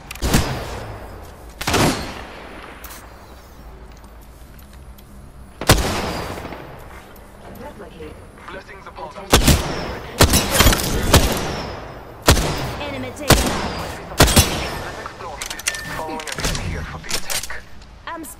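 Gunfire in the battle royale game Apex Legends: repeated sharp bursts of shots, some rapid clusters and single loud cracks, scattered across the stretch with quieter gaps between, and voices talking underneath.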